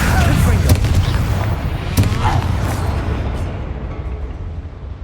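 A Confringo blast spell bursts in Hogwarts Legacy, giving a couple of sharp booming impacts over a dense, continuous game soundscape that fades toward the end.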